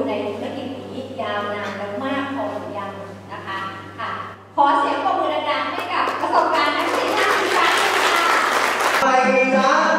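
A seminar audience in Nakhon Sawan breaks into loud applause after a woman's speech. Clapping swells suddenly and keeps going strong for several seconds, full and close, with her voice over it before and during the applause.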